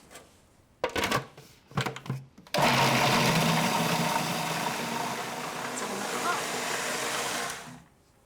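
A kitchen blender blitzes a load of onions for a lamb stew, starting with a few short stuttering pulses and then settling into one steady, whirring run that lasts several seconds before cutting off.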